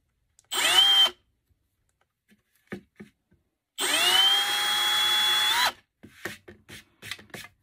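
A drill slowly countersinks a divot into a plate, two close, loud high-pitched whirring bursts, a short one then a longer one, followed by a few light scraping taps.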